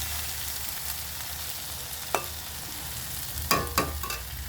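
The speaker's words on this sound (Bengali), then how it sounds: "একদম ওরকম শুকনো ভাজা করে নামাবে" Leafy greens are stir-fried dry in a pan, giving a soft continuous sizzle with a few sharp scrapes and clacks of the spatula near the end.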